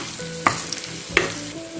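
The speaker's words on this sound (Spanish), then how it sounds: "Seguimos friendo." Garlic and ground cumin frying in a pan, a steady close sizzle with two sharp clatters of stirring against the pan.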